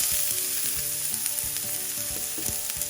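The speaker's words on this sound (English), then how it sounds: "So now the next step is just to saute our onions." Onions sautéing in about a teaspoon of oil for Goan prawn balchao, a close, bright sizzle with soft stirring scrapes every so often, and no one speaking.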